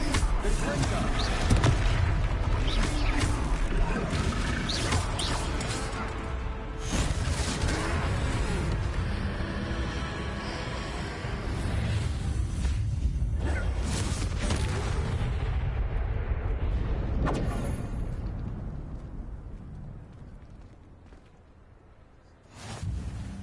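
Explosive blasts from a fiery spell hit a fully grown troll in Hogwarts Legacy battle, booming loudly again and again under a dense wash of combat noise and voices, fading toward the end before a final burst.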